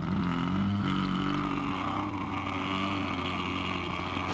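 A voice imitates a revving motorcycle engine with a steady, loud, rough buzzing drone that holds throughout, a low growl wavering slightly in pitch near the start.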